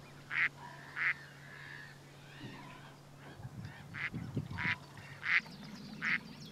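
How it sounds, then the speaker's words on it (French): Ducks quack on a pond in a Sologne wetland reserve, with several separate loud calls spread across the clip over a quiet outdoor background and a faint low hum. "On a quasiment toutes les espèces de canards qui sont présentes sur l'étang à différentes périodes de l'année"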